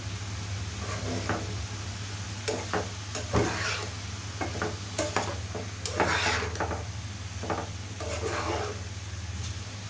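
Bottle gourd mixed with ground cumin and dried chili paste in a pan for a hilsa-head gourd dish, a spoon scraping and knocking in irregular bursts over a steady low hum and faint sizzle, close by, no talk.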